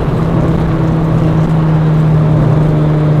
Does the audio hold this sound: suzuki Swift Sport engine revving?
yes